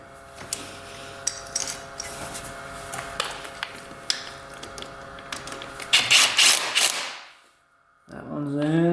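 Bolts go into a new starter on a quad: close metallic clicks, ratcheting and creaks over a steady background hum, followed by a louder scraping rub and a brief tone near the end.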